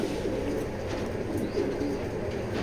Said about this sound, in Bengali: খুবই ভালো কবুতর এগুলা